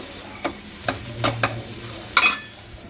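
Fenugreek leaves cooking in an uncovered pan, with several separate stirring scrapes and a brief louder hiss near the end, close and fairly quiet, no voices.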